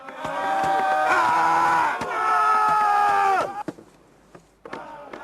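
A loud, sustained group shout rises for several seconds and then cuts off abruptly, followed by scattered thumps and quieter noise.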